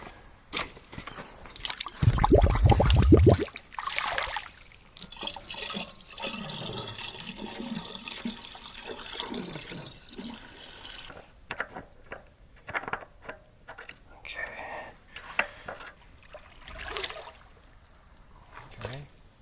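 Water gushes and fills a pump container on an off-grid island, starting with a loud, brief rushing surge and then settling into a quieter, uneven trickle and gurgle while people talk nearby.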